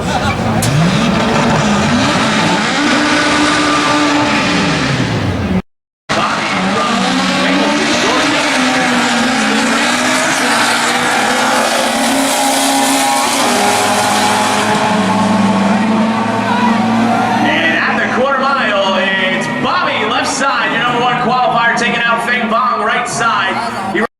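Drag racing cars roar at N.C. Dragway, including a 1994 Honda Civic with a 2.0 liter engine in the right lane, engines loud and close for most of the run with a brief cut, mixed with a commentator's voice.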